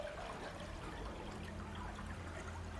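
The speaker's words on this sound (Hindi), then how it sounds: "ये देखें, ये सारा इस वक्त पानी में जा चुका है।" Water pours and trickles steadily as an iPhone 14 Pro Max is submerged in a water test. The gurgling, splashy flow is constant and fairly soft, with no voices.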